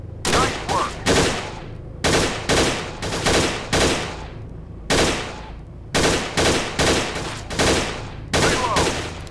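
Loud rapid bursts of gunfire in Gun Club VR S.W.A.T. DLC, several quick volleys of shots separated by short pauses, close and sharp, with no talking.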